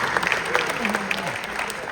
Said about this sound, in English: give it a round of applause for Hogan one more time